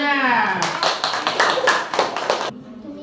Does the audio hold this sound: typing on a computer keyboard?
no